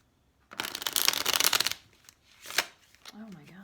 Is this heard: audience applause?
no